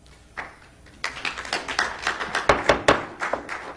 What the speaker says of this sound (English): Clapping is prohibited.